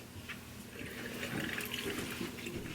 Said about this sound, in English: we're going to splash some water on our hands